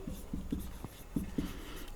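Marker or chalk tapping and scraping on a classroom board during a maths lesson, a handful of short, soft strokes at an uneven pace with no speech.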